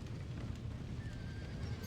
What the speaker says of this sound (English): We gotta get to the horse.